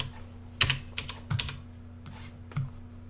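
Keystrokes on a computer keyboard come as a handful of sharp, irregular clicks close by, typing a command into a terminal, with quiet gaps between.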